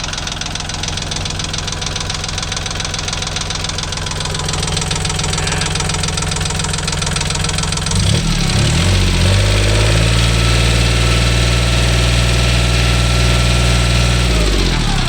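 A Kubota L3608 tractor's diesel engine idles nearby with a steady knocking chug, growing louder and deeper about halfway through.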